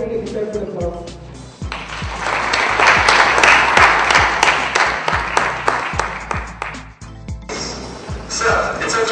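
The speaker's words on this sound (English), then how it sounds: "it deserves an applause" Sustained audience applause at a BlogCamp blogging conference, a dense wash of many hands clapping that swells to full strength mid-clip and stays loud, with a brief dip before it surges again near the end.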